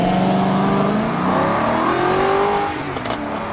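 Ferrari-sourced engine in a Maserati Quattroporte with Pininfarina styling and an F1 transmission revs loud and close, its rising and falling harmonic pitch sweeping steadily for several seconds with no talk.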